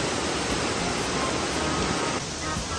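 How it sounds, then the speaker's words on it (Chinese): Meihua waterfall in Jianshi, Hsinchu, a steady broadband roar of falling water into a deep pool, loud and continuous with no talking. "大家看一下梅花瀑布大景"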